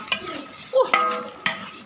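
A utensil scrapes and clacks against a pan in a few separate strokes, with a soft sizzle running underneath.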